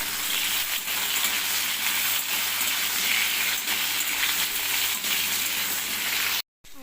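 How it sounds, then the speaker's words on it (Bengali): Cut potatoes tossed with salt and turmeric fry in hot oil with a continuous, close sizzle, a few faint stirs underneath, ending in a brief cut. "এবার আমি আলুগুলো একটু ভেজে নেব"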